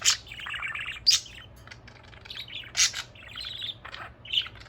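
Pet budgie chirps in a quick series of high, bright tweets and short squawky bursts, close and clear over a low steady hum, with no talking.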